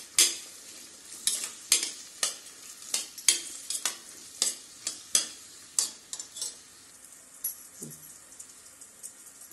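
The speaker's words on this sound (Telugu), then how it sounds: "సో ఆనియన్స్ బాగా ఫ్రై కావాలా." Onions fry in a pan with a steady low sizzle while a spoon or spatula scrapes and stirs in quick, irregular strokes, close by and without speech.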